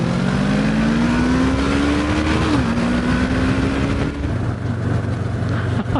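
A BMW motorcycle engine revs on a countryside ride-out, a loud steady drone with rising pitch that dips and climbs again, close and continuous over wind and road noise throughout.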